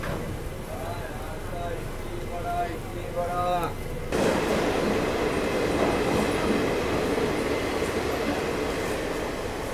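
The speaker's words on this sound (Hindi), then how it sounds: "पहुँच रहे हैं अपने जर्नी के पहले हॉल्ट यानी कि बंगारपेट जंक्शन रेलवे स्टेशन पे" A train pulling into Bangarpet Junction railway station on a run from Bengaluru, steady rumble and clatter of wheels on rails with brief squeals, then a sudden louder surge of rolling noise; speech is heard over it.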